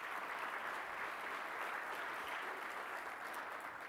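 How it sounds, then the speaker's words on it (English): Conference audience applauds the event sponsors at a welcome address, steady sustained clapping from a large crowd with no talk over it. "Let's give our sponsors a round of applause."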